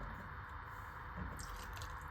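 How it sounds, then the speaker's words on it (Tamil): Wet, squishing sounds come from hands working spinach paste and the spinach cooking water into chapati flour dough, a steady, soft, close kneading noise with no talk. "இந்த சப்பாத்தி மாவு கூடயே கொஞ்சம் கொஞ்சமாக சேர்த்து மாவு பிசைஞ்சிக்கோங்க"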